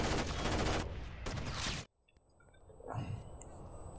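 Automatic gunfire from the video game Rainbow Six: Vegas 2 during a terrorist hunt mission. A loud, dense burst of rapid shots cuts off abruptly and is followed by quieter game ambience.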